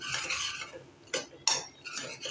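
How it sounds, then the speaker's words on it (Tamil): Mango thokku with powdered fenugreek and mustard being stirred in a pan, giving a soft continuous scraping sizzle broken by a few sharper spoon knocks against the metal, close and with no voices. "நல்லா கிளறி விட்டுட்டே இருங்க, இல்லைன்னா சீக்கிரமாக அடி பிடிச்சிரும்."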